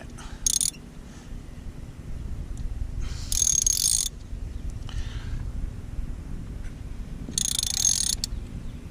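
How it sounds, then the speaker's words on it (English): A ratchet tightens a spark plug on a Hyundai 1.6L turbo engine, clicking in three short, bright bursts separated by quiet pauses, close and distinct. "now we can put the ratchet back on"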